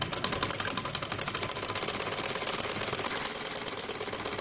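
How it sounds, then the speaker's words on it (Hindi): A sewing machine runs steadily, stitching a hook strip (kundi) onto a salwar, its needle clattering in a fast, even rhythm close by with no talking. "अब मैं इसको सिलाई लगाकर बताती हूँ आपको।"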